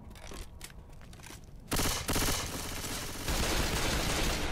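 Sustained automatic gunfire in the video game Left 4 Dead, dense rapid bursts that jump louder partway through and continue without pause, loud and close.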